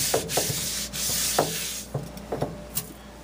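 A well-seasoned cast iron skillet being scrubbed, brisk rough rubbing strokes repeating at close range, with a few sharper scrapes mixed in.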